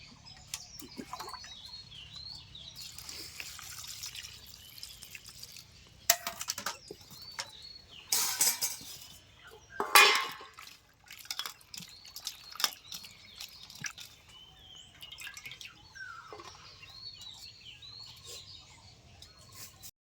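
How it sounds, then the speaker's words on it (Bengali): Cut capsicums are washed in water, with intermittent splashing, dripping and handling bursts, fairly close, separated by quieter gaps where birds chirp faintly in the background. "ক্যাপসিকামগুলিকে আমি কেটে নিয়েছি, এখন আমি ভালো করে ধুয়ে নেব"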